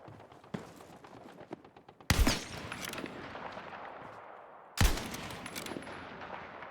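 Gunfire in the video game Battlefield 6 RedSec mode, with two loud, sharp shots several seconds apart over a quieter bed of smaller pops and faint footsteps.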